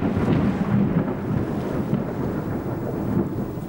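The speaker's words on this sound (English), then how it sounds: "A fierce storm has us running for shelter." A fierce tropical thunderstorm with 30-knot winds near an island creek: a loud, steady roar of rain and wind buffeting, with deep rumbling thunder swelling beneath it throughout.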